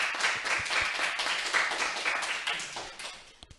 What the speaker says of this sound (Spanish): primero los aplausos por haber tenido la conferencia.